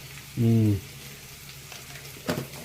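Dry spices with a little turmeric fry in a pan for a Bengali aloo dum, a faint steady sizzle under a short humming tone and a brief clink.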